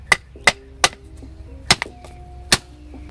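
Hammer blows drive out a polyurethane subframe bushing on a classic BMW E28 as about five sharp metallic smacks, close and loud, unevenly spaced, with faint ringing between them.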